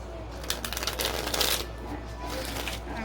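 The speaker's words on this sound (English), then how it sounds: "I already shuffled them, but I will shuffle them again before I pull some" Tarot cards are shuffled repeatedly, a quick papery riffling and flicking up close, steady for a few seconds at a soft level.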